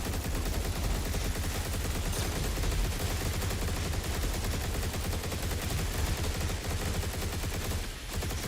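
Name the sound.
gunshots from a gun in a video game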